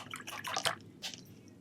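A small paintbrush swishes and clinks in a cup of rinse water, a few quick wet splashes and drips close by, then quiet.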